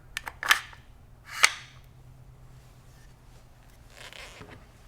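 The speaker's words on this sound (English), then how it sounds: "we can take our bolt assembly, slide it in the front of the receiver" Bolt assembly of a Benelli M4 Tactical shotgun sliding into the front of the receiver, a few quick metallic clicks and scrapes followed by a sharper slide and click, then a faint rustle, quiet and close.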